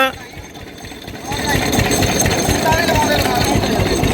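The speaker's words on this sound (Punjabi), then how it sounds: "ਪਟਾ ਖਿੱਚ ਕੇ ਇੰਜਨ ਸਟਾਰਟ ਕਰਿਆ" A two-wheel diesel engine is started by pulling its belt. A brief quiet stretch gives way as the engine catches and settles into a loud, close, steady knocking chug.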